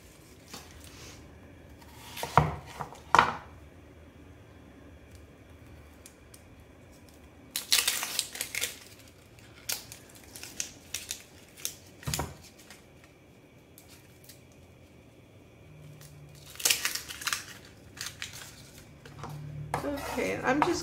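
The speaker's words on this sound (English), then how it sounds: "We don't need to mince the onion, we're just going to dice it." A knife dices an onion on a cutting board while making cauliflower curry, giving scattered bursts of quick chopping taps and board knocks between pauses, with someone talking throughout.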